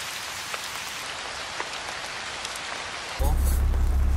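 Heavy rain pours steadily on a rainforest mountain near Princess Louisa Inlet, a dense close hiss with scattered drop impacts, and a sudden louder, deeper wash of downpour near the end.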